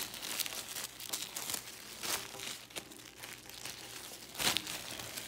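Tissue paper is folded accordion style for a paper flower, giving a quiet close crinkling and rustling in soft repeated bursts with a sharper crackle near the end, and no talking.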